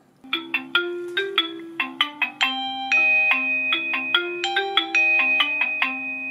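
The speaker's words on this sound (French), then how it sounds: "Alarme température déclenchée" A melodic electronic ringtone plays loud and clear from an X-Sense gateway and phone as a temperature alarm, with quick repeated note patterns and a few sustained tones, and no voices.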